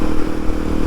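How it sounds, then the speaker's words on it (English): A single-cylinder 230cc motorcycle engine revs steadily up close, a loud, dense mechanical drone with slight vibration and faint clatter, no talking. "yes, it has a little bit of vibration, but it's just revving up, it's just so smooth"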